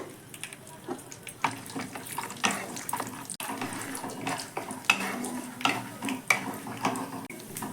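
Peanuts frying in hot oil in a home kitchen, heard as a close, soft bubbling crackle with scattered clinks and scrapes of a utensil against the pan, with no voices.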